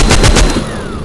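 Rapid bursts of minigun fire in the zombie shooter game The Walking Zombie 2, a few loud, closely spaced shots in quick succession that fade into a thinner ringing tail.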